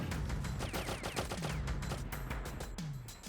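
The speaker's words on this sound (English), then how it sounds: "We know that we're going to take 2 shots and continue." In the video game Oddworld: Abe's Exoddus, gunshots hit Abe in a rapid burst of sharp cracks, with several quick repeated bangs close and loud over a busy game soundscape.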